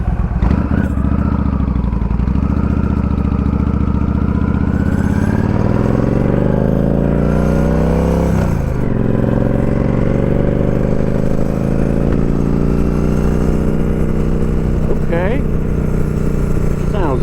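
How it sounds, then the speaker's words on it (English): A Yamaha V Star 1300 motorcycle idles and revs nearby, a loud continuous engine rumble with rising and falling pitch as the throttle changes, while someone talks over it. "Smooth running bike, man."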